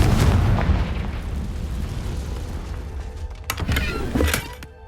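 A Confringo fire spell blasts in the video game Hogwarts Legacy, a loud explosive burst at the start that rumbles on, followed by a couple of sharper crackling hits near the end.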